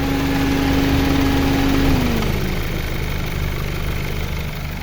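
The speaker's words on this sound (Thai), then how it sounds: "ลองฟังเสียงเครื่องได้ครับ เครื่องของ Honda เครื่อง VTEC นะครับ" A 2010 Honda Civic VTEC engine idles steadily up close, a smooth continuous hum whose pitch drops slightly after a couple of seconds, then stays even.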